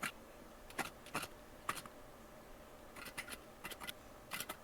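Playing cards shuffled inside a cocktail shaker make short, dry clattering rattles in several quick bursts separated by pauses, fairly quiet and close.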